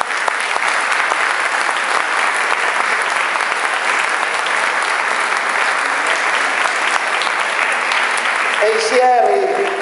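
Loud, continuous audience applause fills a hall after a speech by a regional assessor for rural, agri-food and forestry resources, dense clapping steady throughout with a voice emerging briefly near the end.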